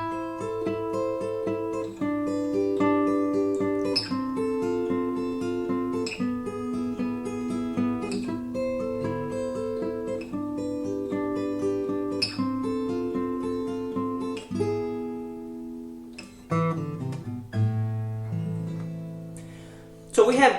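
Fingerpicked acoustic guitar playing a rhythmic, rumba-style pattern over a Spanish-flavored chord progression, steady and close, with repeating bass notes and bright plucked chords throughout, a brief pause near the end before the strumming resumes.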